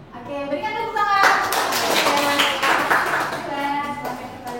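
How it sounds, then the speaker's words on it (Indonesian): Classroom of students clapping for a group after a presentation, a burst of many hands that swells and then fades, with voices talking over it. "Oke, berikan tepuk tangan."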